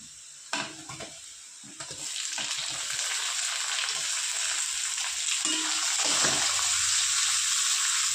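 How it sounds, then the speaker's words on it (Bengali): Chopped tomatoes added to frying onions hiss and sizzle steadily in hot oil, a loud broadband crackle that builds after a few opening clanks of a utensil, with occasional scrapes from stirring. "পেঁয়াজ আমার ভাজা হয়ে গেছে, এবার দিয়ে দেবো টমেটো কুচি"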